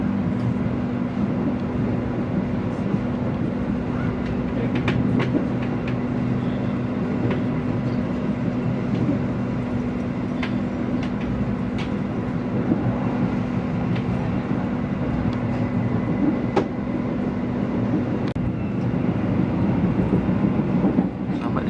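The Argo Lawu passenger train running on rails between Solo and Jakarta, heard from inside as a constant low rumble with a steady hum, with occasional faint clicks and knocks from the track throughout.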